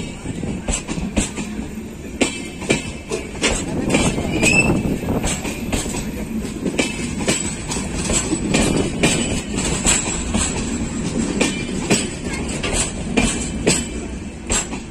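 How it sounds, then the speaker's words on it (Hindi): A Darbhanga–Sabarmati Express train hauled by an electric locomotive rolls along the track near Mau with loud, steady rhythmic clatter of wheels over rail joints, continuous and close throughout. "और भाई ट्रैक साउंड कैसा लग रहा है आप लोग कमेंट सेक्शन में जरूर बताइएगा।"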